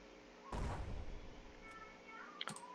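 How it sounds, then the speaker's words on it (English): Artillery fire in the World War II card game KARDS, one heavy blast followed by a rumbling decay, then a sharper, smaller report near the end over quiet game tones. "Let's go ahead and clear out that artillery piece."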